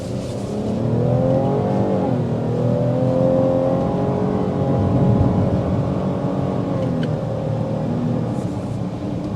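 A 2023 Cadillac XT6 Sport accelerates on a test drive, its engine droning steadily and climbing in pitch through the gears, heard from inside the cabin with no talking.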